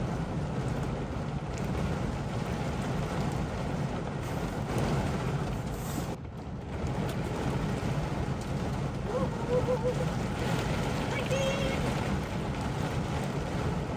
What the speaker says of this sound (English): It's like not even raindrops, it's just dumping water.